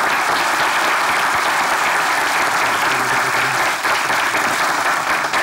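An audience at a comedy sketch staged as a party congress claps continuously, with dense, loud applause filling the hall throughout.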